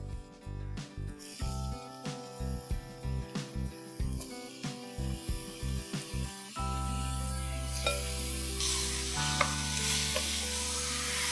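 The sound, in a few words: half a kilo of mutton frying and stirred in masala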